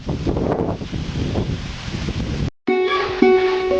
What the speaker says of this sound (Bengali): আস্তে আস্তে ঝড়ের বাতাসের তীব্রতা বেড়েই চলছে।